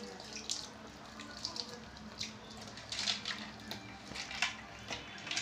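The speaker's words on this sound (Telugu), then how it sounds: "ఇదిగో వాటర్ పోసుకున్నాము" Water poured into a cooking pot while making a tamarind fish-head curry, a faint splashing, running trickle with scattered louder gushes and drips, close by.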